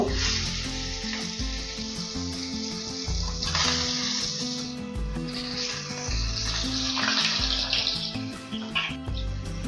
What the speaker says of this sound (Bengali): তেল ভালোভাবে গরম হয়ে গেলে আগে থেকে ম্যারিনেট করে রাখা মাছগুলি এক এক করে ভেজে নেব